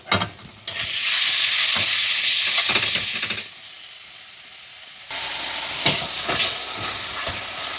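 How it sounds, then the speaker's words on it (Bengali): Red chilli powder masala, cooked down for a Bengali katla fish curry, sizzles loudly in a pan while being stirred, with scraping bursts, a quieter lull, then renewed stirring and hiss. "এখন মশলাটা কষানো হয়ে গেছে।"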